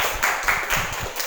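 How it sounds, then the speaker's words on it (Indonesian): A classroom of students applauding a presenting group, a short burst of scattered hand claps from many people at moderate distance, uneven and fading after about a second. "kasih tepuk tangan untuk kelompok 1"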